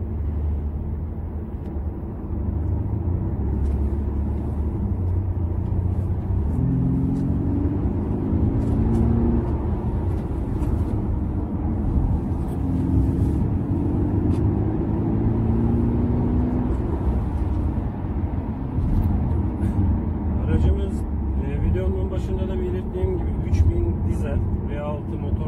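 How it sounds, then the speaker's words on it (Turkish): An Audi A6 3.0 TDI, just repaired after a loss of pulling power, drives on the road and accelerates with a steady, moderate engine drone beneath someone talking throughout. "Şu an işte yol müsait durumuna göre biraz performanslı kullanım gerçekleştireceğim."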